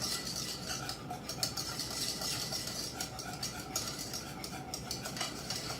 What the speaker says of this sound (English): And I just changed to whisk because it's easier. It moves it quicker.